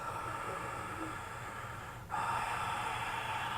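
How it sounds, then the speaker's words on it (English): Audible ujjayi yoga breathing through the mouth during a flow class, a steady breathy ocean-like rush that holds and then swells louder partway through as the exhale begins, close and continuous with no talk. "So you're breathing in and out audibly through the mouth,"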